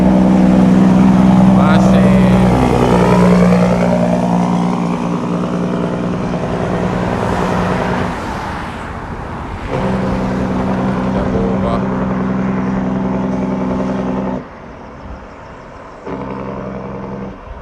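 Kenworth T800 truck engine rumbling on a Jamaican hillside, a loud, steady low drone with engine tones shifting as it revs, easing off in the middle and dropping lower near the end.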